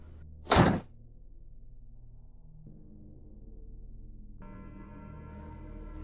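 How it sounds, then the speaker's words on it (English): A single sharp, loud thud like a door slamming shut, followed by a low hum and a faint steady tone. "she heard the front door slam"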